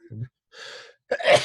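A person sneezes close by, one short burst after a brief breath intake, with quiet pauses between.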